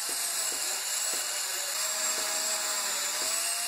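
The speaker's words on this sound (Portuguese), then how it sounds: "Para o desbaste, vou utilizar aqui essa esmerilhadeira." Angle grinder fitted with a thick, worn abrasive stone disc grinding down a rubber tire, a constant high-pitched whine with a roughly rhythmic scraping pulse as the disc is worked against the rubber, close and loud, no talking.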